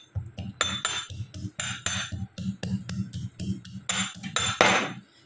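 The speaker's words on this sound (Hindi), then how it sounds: "अदरक कूटा जाए" Ginger is pounded for tea in a home kitchen, with a rapid series of sharp, metallic knocks and clinks repeating unevenly at close range, moderately loud and without any talk.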